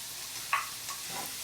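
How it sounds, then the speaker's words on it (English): Fried bacon and prosciutto sizzling together in a pan, a soft, steady hiss with a few faint clinks of a utensil against the pan. "Once the prosciutto is in, now it's time for me to put fried bacon."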